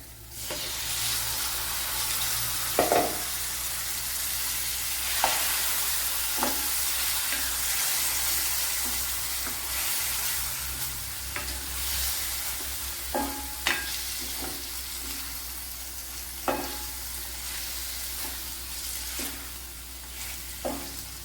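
Lemon pieces sizzle and fry in masala in a pan for Kerala lemon pickle, a steady hiss with occasional sharp spoon scrapes and taps as they are stirred, close and continuous without talk.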